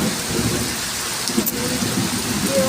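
Thunder rumbles low and distant through a steady roar of heavy rain filling a flooded courtyard on a dark stormy day, with the downpour continuous across the whole stretch and no talk.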